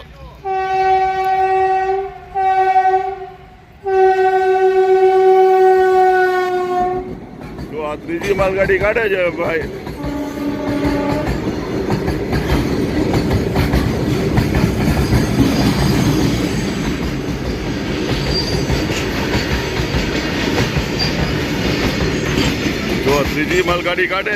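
Trains passing a railway level crossing at Wankaner, opening with long loud horn blasts, then the heavy rumble, clatter and squeal of rolling wagons close by, with people talking over it.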